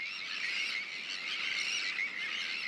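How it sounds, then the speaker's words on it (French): A tern colony on the Banc d'Arguin near Arcachon, where parents and chicks trade contact calls: a dense, unbroken chorus of shrill overlapping cries, loud and steady throughout. "tous les cris que vous entendez, en fait, ce sont des cris de contact et ça permet aux parents de retrouver leurs poussins dans la colonie"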